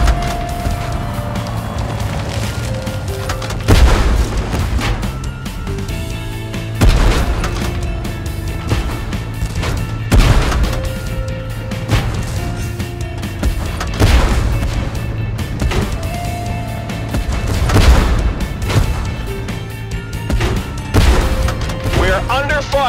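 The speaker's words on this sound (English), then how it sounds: "We are under fire!" In a tank combat video game with a Bradley vehicle, heavy booms and gunfire repeat every few seconds over a constant engine rumble, with voices speaking in between.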